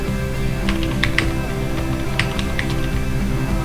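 Someone types a CIF number into a computer keyboard on an SBI net banking page. A few scattered, light keystrokes sit faintly over a steady background hum.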